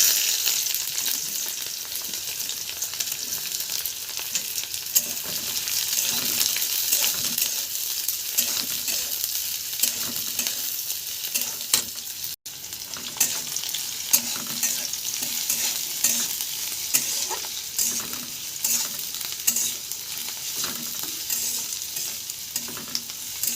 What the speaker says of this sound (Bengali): পেঁয়াজটাকে ভালোভাবে ভেজে নেব।